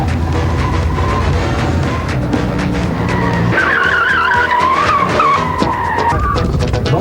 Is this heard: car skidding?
yes